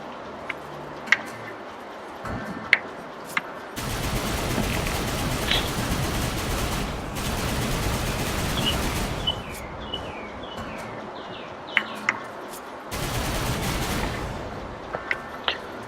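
Rapid video game gunfire aimed at an angel enemy, bursts of dense machine-gun-like shooting in several long volleys separated by quieter gaps with scattered sharp shots and chirpy effects.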